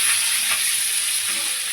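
Onion, tomato and garlic cloves fry in a pan for a prawn curry, making a loud, even, close sizzle with no pauses.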